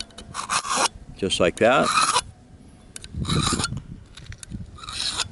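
Metal is rasped and scraped through a knife sharpener in loud, gritty strokes, several close passes with pauses between, while someone talks briefly over the first part.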